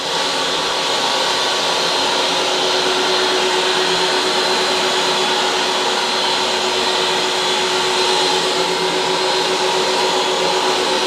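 Bonzer high speed carpet cleaning tool vacuuming carpet, a loud, steady whine with a constant tone that runs unbroken throughout, with no talking.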